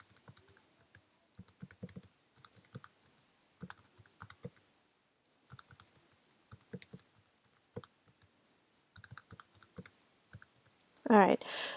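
Keys clatter in irregular bursts of quick clicks with brief pauses between runs, close and fairly quiet, as data is typed in on a keyboard; a louder noise breaks in at the very end.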